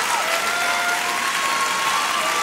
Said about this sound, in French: Prenez les applaudissements, profitez-en, le public se lève pour vous.